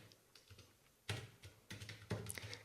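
Typing on a computer keyboard while entering a privacy setting in a Swift coding project, several quick bursts of close clattering keystrokes separated by short pauses, faint and alone.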